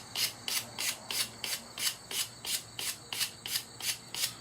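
A point is abraded with sandpaper or a file in steady rhythmic strokes, about eleven even scraping rasps at roughly two per second, close and fairly quiet with no voices.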